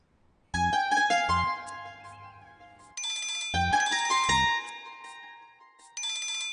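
A mobile phone ringtone plays alone, a bright electronic melody in short repeated bursts separated by brief gaps, loud and clear with no talking.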